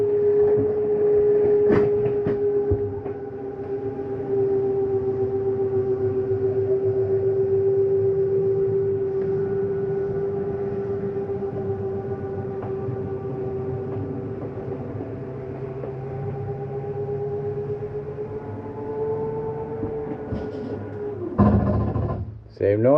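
The bedroom slide-out on a 2024 Flagstaff Superlite 26FKBS travel trailer retracts with a long steady motor whine and hum for about twenty seconds, then stops with a brief clunk.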